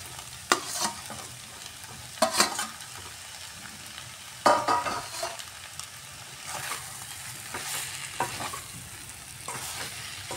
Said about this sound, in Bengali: অমলেটটাও মশলার সাথে আমি কষিয়ে নিচ্ছি।